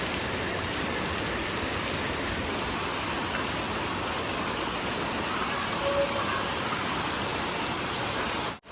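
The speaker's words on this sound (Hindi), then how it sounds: "अब इतनी तेज़ बारिश शुरू हो गई कि नाले भी शुरू हो गए बहने" Heavy rain pours down steadily with drains overflowing, a dense continuous hiss of downpour filling the scene, close and loud throughout with no voices.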